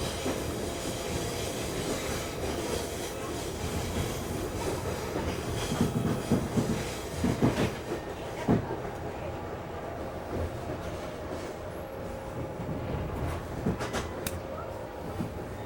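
A train rumbles past nearby with a continuous rolling roar and occasional clacks and squeals of wheels on rails, faint voices mixed in.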